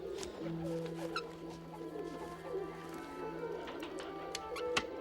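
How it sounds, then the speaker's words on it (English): Pigeons cooing softly from cages, a low steady coo running through most of the stretch, with faint rustles and background ambience around it. "Grab a pigeon. Blue cage."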